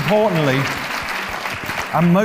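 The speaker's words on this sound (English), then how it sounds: "Round of applause for Christina." Scattered applause rises between bursts of a voice speaking loudly at the start and end.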